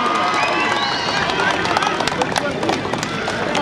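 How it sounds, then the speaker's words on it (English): A stadium crowd at the final of a national women's football championship claps and cheers in a loud, continuous wash of noise, with a voice over a public-address system speaking through it. "please, huge round of applause for her"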